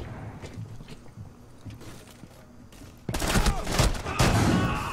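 Shotgun fire in the video game Rainbow Six Siege, a loud burst of blasts and gunfire crashing in after quieter footsteps and thuds, close and dense.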